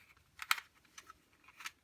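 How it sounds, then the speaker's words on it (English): Two small keys rattle loosely inside the coin compartment of a polycarbonate card wallet, giving a few quick, light metallic clicks close up. "Here I've got just 2 keys, which therefore rattle."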